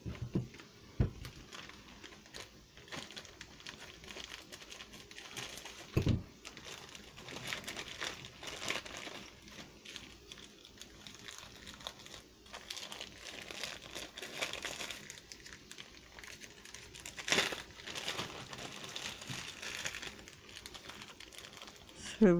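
A small plastic bag of craft odds and ends crinkles and rustles as it is handled, soft continuous crackling with a few sharper crunches, fairly quiet and close, with a voice talking intermittently.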